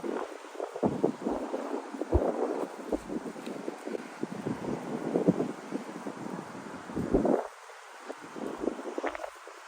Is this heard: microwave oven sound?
no